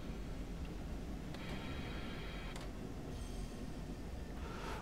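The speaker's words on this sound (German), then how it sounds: "Da fährt die S-Bahn geradeaus." An S-Bahn train runs past in Train Sim World 4 on the Dortmund–Aachen line, a steady rolling rumble with faint wheel squeal and high tonal whines in the middle.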